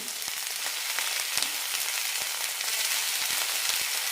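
Ridge gourd pieces and tomato with turmeric and asafoetida sautéing in a pan: a steady, bright sizzle throughout with occasional soft taps and scrapes of stirring, close and without talk.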